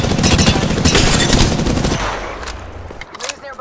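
Rapid automatic gunfire in the Apex Legends video game crackles loudly for about two seconds, then breaks off into scattered fainter shots and clatter.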